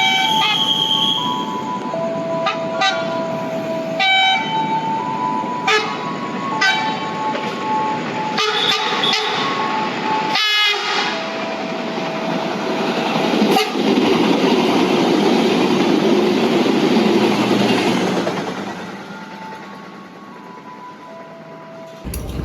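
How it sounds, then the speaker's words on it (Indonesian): An airport train runs straight through a station without stopping, its horn sounding in several sharp blasts over loud, close rumbling wheels and clattering rails, then the noise fades as it passes. "Ada kereta yang melintas langsung, kereta bandara."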